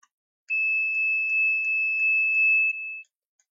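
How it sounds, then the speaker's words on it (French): Homemade oscillator buzzer running with a 470 microfarad capacitor, a thin steady high electronic tone sounding almost continuously for about two and a half seconds with faint rhythmic ticks, then stopping, in an otherwise silent room. "on entend presque en continu, en fait, le buzzer."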